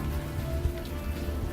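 Steady rain ambience from the video game Unavowed, a soft continuous patter with a low rumbling wash underneath and no speech over it.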